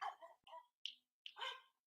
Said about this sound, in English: Here's my dog here.